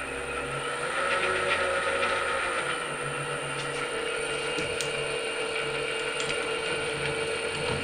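A lathe fitted with an electronic leadscrew runs at medium speed with its VFD drive on while the carriage feeds forward, giving a steady mechanical whir with fine ticking and clicking from the gearing, fairly quiet and continuous.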